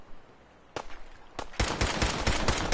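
Enemy gunfire in Fallout 4: two isolated shots ring out, then a sustained rapid burst of automatic fire follows, loud and close.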